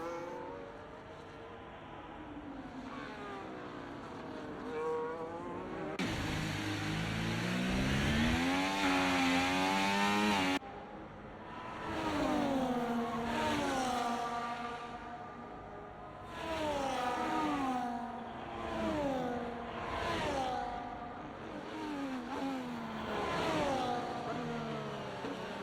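Formula 1 cars at COTA in an F1 racing game, engines revving loudly through repeated upshifts and downshifts, with rising pitch sweeps, gear changes and brief lifts over about 25 seconds, no voices.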